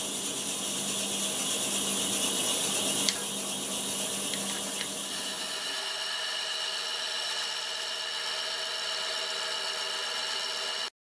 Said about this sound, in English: I'm cutting a 40 degree angle on this